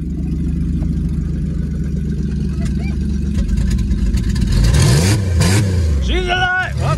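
A Chevy car engine roars loud and close at the start of a race, rumbling steadily and then revving higher toward the end, with people's voices mixed in over it.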